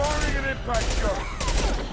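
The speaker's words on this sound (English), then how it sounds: "Firing an impact shot." Impact shot gunfire from the video game Mass Effect 2 rings out as a dense run of rapid, loud, crackling bursts that overlap one another for about two seconds, with no talking.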